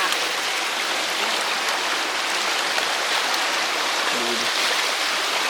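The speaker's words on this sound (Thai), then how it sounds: "น้ำก็ไหลมาเรื่อยๆนะครับ เพราะว่าฝนตกสองสามวันติดต่อกันเลย" A swollen stream after several days of rain rushes in a constant, loud broadband wash of flowing water outdoors, with no pauses.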